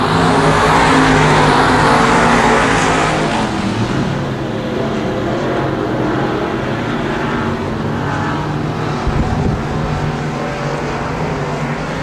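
Street stock cars race around a dirt oval at Genesee Street, their engines roaring steadily and loud, in a broad continuous drone as the pack runs single file.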